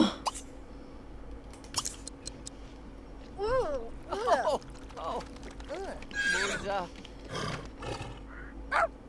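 Horse in The Sims game neighing and whinnying in several short, sharp bursts among clopping and clicking game sounds, over a low steady hum.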